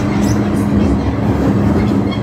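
A Hong Kong train runs at steady speed, a loud continuous rumble with faint rhythmic wheel clatter heard from inside the carriage, and no speech.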